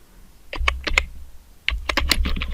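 Keys clatter on a computer keyboard as HTML page content is typed, in two quick flurries of crisp, close keystrokes separated by a brief pause.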